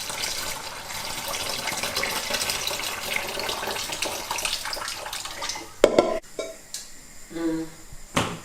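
Water pouring and splashing as split peas are strained in a kitchen, a steady gush that breaks into a few clattering knocks and drips near the end.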